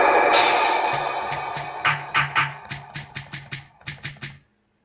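A hi-hat and percussion pattern plays on a Studio One Impact XT drum machine, a noisy opening wash followed by a crisp rhythmic run of about a dozen clicky hits with low thumps, stopping abruptly.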